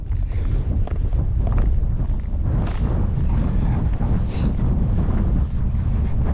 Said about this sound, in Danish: det blæser sådan fra en vest-nordvestlig retning, sådan stød op til 14